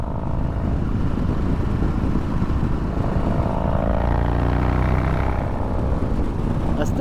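Woods Stage 2 TW 222 motorcycle engine pulling in third gear on a freeway at about 60 mph and 3,700 rpm, a continuous loud low drone with wind rush, holding steady and rising slightly in pitch midway.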